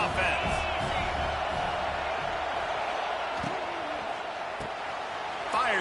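Steady roar of a stadium crowd at a college football game, loud and continuous throughout, with faint bursts of commentary-like voices mixed underneath.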